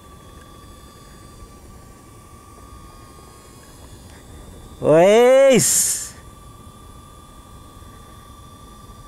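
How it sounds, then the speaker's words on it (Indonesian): A DJI Neo 2 mini drone hovers outdoors near trees, giving off a thin, steady electric whine. A person's voice cuts in loudly for about a second partway through. "dari sini kita bisa kontrol drone-nya ya"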